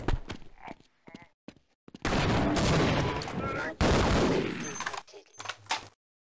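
Rapid bursts of gunfire from the video game Half-Life, loud and dense for a few seconds and then breaking off, with a voice talking over the action.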